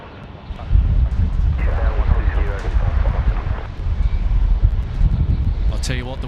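Gusting wind at Sydney Airport buffets the microphone in a loud, steady low roar that swells early and holds, with faint voices murmuring underneath.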